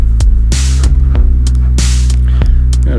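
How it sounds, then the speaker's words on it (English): Deep drum loop for a downtempo trip hop track, heavy thumping kicks under a droning low hum with sharp snare-like hits at a slow, steady groove, loud and close with no voices. "I think I'm going to put a drum loop in there"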